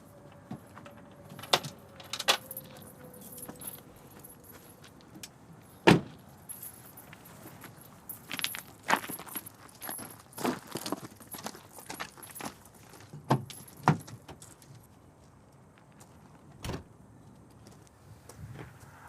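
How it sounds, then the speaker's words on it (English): Keys jangle repeatedly amid clicks and rattles as someone tries to start a car that won't turn over; sharp handling noises recur throughout, fairly close, with no engine catching. "Can't start my car on the biggest day of my whole life."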